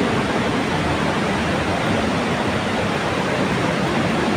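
Loud, dense roar of rushing water at Old Wawa Dam in Montalban, Rizal, heard close and constant with no break.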